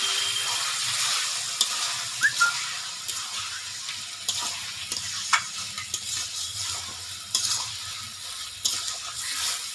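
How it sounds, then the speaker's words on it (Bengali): Chicken pieces with spices are stirred in a hot pan, a continuous bright frying sizzle with occasional knocks and scrapes of the spoon against the pan, close up and without voices. "এবারে মাংসগুলো দিয়ে দিচ্ছি। ভালো করে মশলাগুলোকে নাড়িয়ে নিচ্ছি।"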